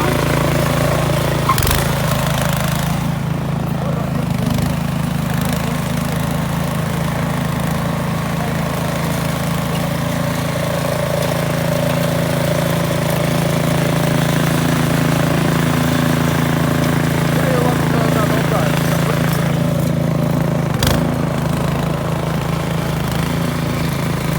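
Stanley snowblower engine running steadily outdoors in snow, a loud, close, continuous mid-pitched drone with a few brief clunks as gears are shifted.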